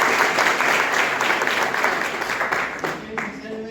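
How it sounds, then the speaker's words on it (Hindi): An audience at an NDLI user awareness programme bursts into loud, sustained applause, dense clapping that fills the room and tapers slightly toward the end. "जोरदार ताली।"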